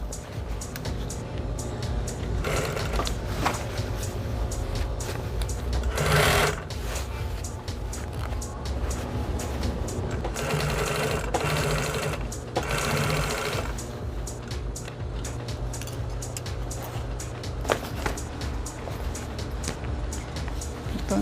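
A sewing machine topstitches along the seam of a fringed bag made from recycled fabric, with fast whirring runs of stitching broken by short pauses and clicks.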